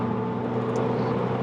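Road noise inside a Datsun 240Z classic Japanese sports car cruising on an open road, a steady low droning rumble heard close from the cabin.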